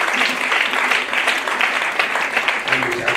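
A church congregation at a Sunday service applauds steadily, with dense, even clapping throughout and voices faintly audible underneath.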